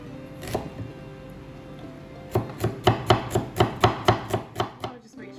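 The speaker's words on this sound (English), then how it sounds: "Cut up the onion like this." A knife chops a red onion on a cutting board: one early stroke, then a quick run of about a dozen sharp, close, evenly spaced chops, with no voices.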